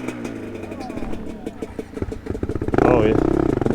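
A GPX Moto dirt bike engine putters at idle under a rider's talk, then the throttle opens and it breaks into a loud, rapid, buzzing rev near the end.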